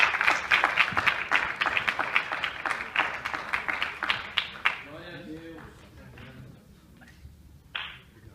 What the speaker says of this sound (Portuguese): Vamos dar mais uma salva de palmas para o nosso Senhor Jesus Cristo